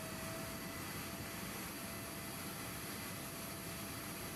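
Steady, continuous jet engine roar from a PMDG 777-200LR airliner in Microsoft Flight Simulator 2024, a broad constant rumble with a faint high whine holding evenly throughout, with no talking.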